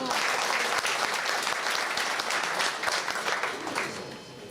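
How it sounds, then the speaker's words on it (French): Sustained audience applause at an embassy celebration, dense and steady from near the start, then thinning slightly and fading toward the end. "je voudrais que vous applaudissiez"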